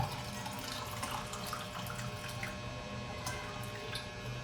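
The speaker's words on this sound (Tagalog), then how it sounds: "So, lalagyan ko lang ulit siya ng tubig pa." Tap water runs and splashes into a cooking pot at home, a steady liquid pour with small drips and sloshes, close and moderately quiet, without voices.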